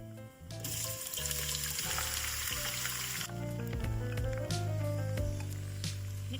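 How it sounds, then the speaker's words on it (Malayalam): Four chopped onions sauté with cinnamon in a pan for chicken stew, giving a continuous soft sizzle and frying crackle with a steady tonal hum beneath. "സവാള നല്ലതുപോലെ വഴറ്റിയെടുക്കണം"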